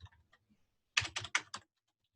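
Four quick, crisp keystrokes on a computer keyboard, entering a code into a form, close and clear after a near-silent pause.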